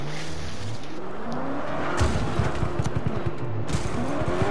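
Car drifting in the video game Just Cause, a sustained tire squeal rising and sliding in pitch over a revving engine, loud and close, with rapid rhythmic skidding bursts in the second half.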